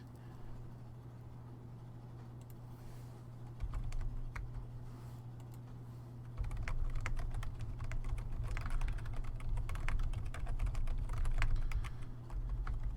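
Typing on a computer keyboard during a livestream: a steady patter of soft, irregular key clicks over a constant low hum, growing slightly busier and louder partway through, with no voices.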